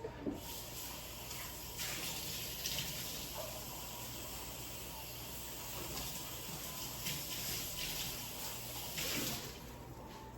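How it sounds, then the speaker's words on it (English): Tap water runs steadily into a sink as a one-cup measuring cup is rinsed, a continuous close splashing hiss with small surges, no talking. "So I'm gonna rinse my 1 cup real quick that I just dropped in here"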